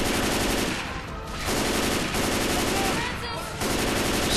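Sustained gunfire from a Left 4 Dead 2 co-op zombie shooter, a dense loud rattle of automatic weapons running through the whole stretch with brief dips, heavy game chaos around it.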